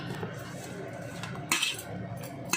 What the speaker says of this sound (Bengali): এর মধ্যে ধনে পাতা দেব বেশ ভালো করে মাখবে